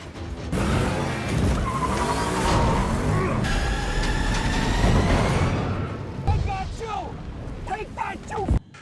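Cars roar and skid with squealing tires through a city street chase leading into a major crash in The Batman, loud engine drone and tire screech throughout.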